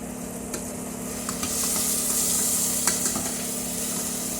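Garlic and onion sauté in a hot pan with a continuous close sizzle and a few light clicks of stirring, swelling slightly partway through.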